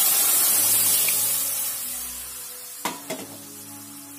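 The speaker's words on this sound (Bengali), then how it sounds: "এবার আমি দিয়ে দিচ্ছি আমাদের সেদ্ধ করে রাখা ডালটা।" Boiled dal is poured into a hot pan with mango, setting off a steady sizzle that fades gradually before a few sharp splashing bursts near the end; no voices.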